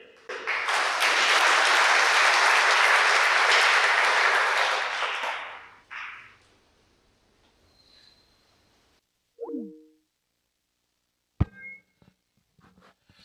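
An audience claps steadily for about five seconds at a Teach2Give graduation ceremony, then the applause cuts off. A few faint, scattered small sounds follow in the quiet.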